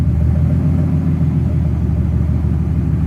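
A Mercedes SL600 with a newly installed transmission runs in reverse while raised on a lift, giving a steady low engine rumble near and loud, unbroken for a few seconds.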